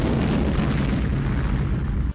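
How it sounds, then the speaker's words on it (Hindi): A tank bursts apart in a heavy explosion after being hit in war footage, a dense, rumbling roar that holds loud and unbroken for about two seconds before cutting off abruptly. "जिससे धमाके के साथ वो फट गया।"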